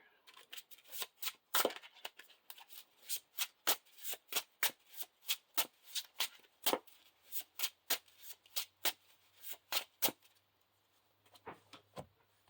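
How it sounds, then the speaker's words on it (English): A deck of playing cards being shuffled repeatedly during a card game, a rapid run of crisp riffling bursts, close and clear, ending with a few more shuffles after a short pause. "Shuffle and discard until we shuffle this in."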